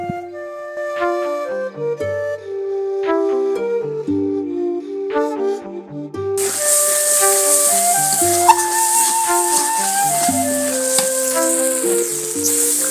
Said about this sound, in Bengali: আর আলু আগে ভাজে নিচ্ছি